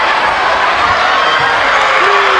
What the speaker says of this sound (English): you hear the Iowa fans right now. They are cheering